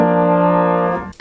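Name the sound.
guitar lick played on piano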